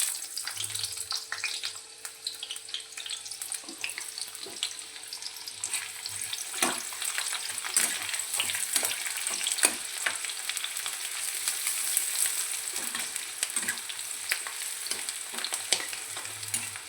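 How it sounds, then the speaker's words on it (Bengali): Onions fry in hot oil over a mustard tempering for a Bengali stalk-and-potato curry, a continuous soft sizzle with crackling pops and occasional stirring scrapes, close but fairly quiet. "এবার আমি পেঁয়াজ দিয়ে দেবো।"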